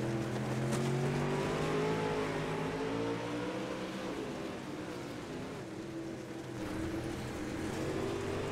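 Dirt late model race car in iRacing at Cedar Lake Speedway, heard from inside the cockpit, engine droning steadily with shifting pitch as it revs and eases off, loud and continuous without talk.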